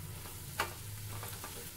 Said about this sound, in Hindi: अब इन सारे मसाले को अच्छे से खुशबू आने तक भून लेंगे।